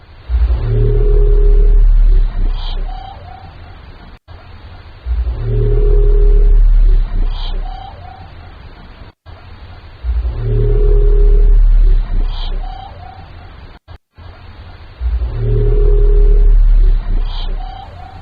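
Western Pacific Biotwang, a strange underwater sound from the Mariana Trench thought to come from whales, plays as four similar loud calls of a few seconds each. Each has a deep rumbling onset and a steady droning tone, with short gaps between them.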